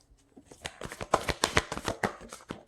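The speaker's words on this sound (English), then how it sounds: "it's so hard to shuffle these." Tarot cards being shuffled by hand, a quick run of crisp riffling slaps and flicks that builds and then fades, close and fairly quiet with no speech.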